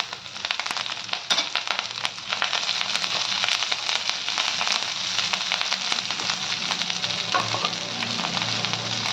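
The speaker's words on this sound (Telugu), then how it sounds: "ఇదే పళ్ళనండి కొంచెం ఆయిల్ వేసుకొని కరివేపాకు వేపుకోవాలండి" Curry leaves fry in a little oil in a pan, a loud, close, continuous sizzle with crackling pops and scraping stirs running throughout, no voices.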